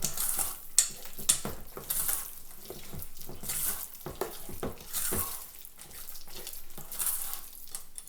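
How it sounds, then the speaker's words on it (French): Brownie batter with chocolate chips being stirred in a bowl, wet scraping and sloshing strokes in an irregular rhythm, close and moderately loud, with no talking. "Je le rajoute à mon mélange. Je fais certain que j'ai tous les pépites de chocolat à l'intérieur. Et une dernière fois, on mélange."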